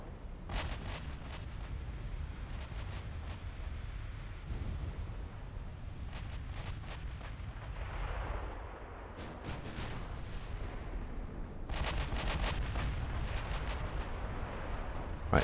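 Battleship guns in the naval video game Ultimate Admiral Dreadnoughts fire in scattered deep booms and sharp crackling salvos over a constant low rumble of the sea and engines.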